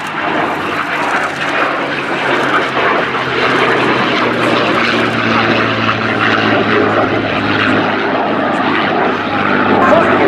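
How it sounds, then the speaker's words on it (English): A World War II era P-51 Mustang flies in formation with an F-22 Raptor at an air show at RAF Fairford, a loud sustained propeller and engine roar throughout while an announcer talks over it. "Formation today is a World War II era P-51 Mustang, free and easy"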